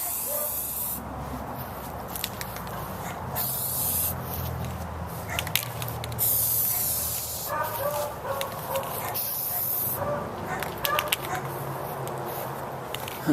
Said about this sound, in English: I start spraying before I'm at the object, and keep spraying past the object